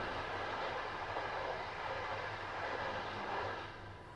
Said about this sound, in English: what is that? it's a commuter train.